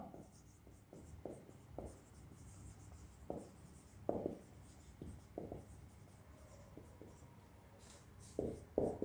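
Writing out a definition of a P&L appropriation account during an accounting lesson: irregular scratchy strokes and taps, close and fairly quiet, over a low steady room hum.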